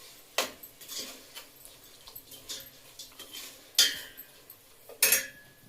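A metal utensil clinks and scrapes against a pan while sesame powder goes into an amla pickle, a handful of bright, separate clinks with quiet gaps between them.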